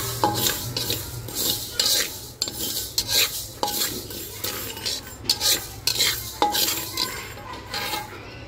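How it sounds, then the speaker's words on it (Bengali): Black and white mustard seeds and nigella dry-roast in a pan for mango pickle, stirred with a utensil that scrapes and clinks in irregular strokes against the metal, close and moderately loud. "কালো সরিষা আর একটু কালো জিরা এখন টেলে নিচ্ছি, চুলায় বসায় দিচ্ছি। এখন এটা ভালোভাবে টালবো।"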